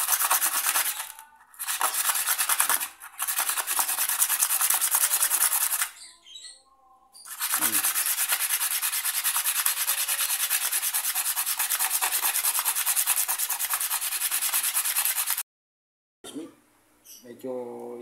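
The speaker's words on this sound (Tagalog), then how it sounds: "Medyo inaano namin, nililihan namin sa loob." Steady, loud abrasive scraping of sandpaper worked inside a motorcycle cylinder bore to enlarge it for a tight piston, running in long sustained bursts with brief pauses and a short quieter stretch at the end.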